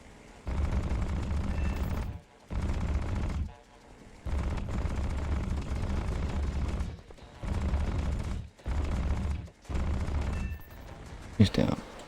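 Aircraft machine guns rattle in the Flying Circus game in repeated bursts of a second or two, separated by short gaps, with a voice talking between them.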